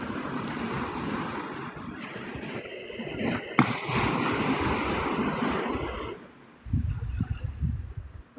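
Ocean waves roll onto the shore at Navarre Beach, Florida, at sunrise, a loud churning wash with wind buffeting the microphone, the surf easing briefly before another wave breaks close by.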